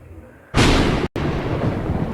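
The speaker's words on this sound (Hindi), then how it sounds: "बिजली कड़की" Thunder cracks in a horror video game, a sudden loud burst after a quiet start that rolls on as a heavy rumble, briefly cut off before resuming.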